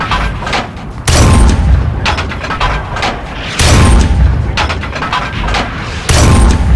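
A tank cannon in a World of Tanks style video game fires repeated heavy booming shots, three loud blasts about two and a half seconds apart, each followed by a rumbling tail, with no talking.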